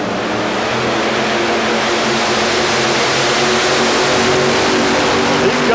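Modified pulling tractor powered by four Chevrolet engines, running at an indoor tractor pull, gives a loud, steady, broadband engine roar that holds without pause under a faint arena voice.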